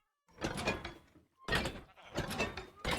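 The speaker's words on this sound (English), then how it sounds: "you can tell it's metal, but it's also a gentle sound" A metal chest in Minecraft opening and closing with soft, muted metallic thunks, three short sounds in a row with brief gaps of silence between them.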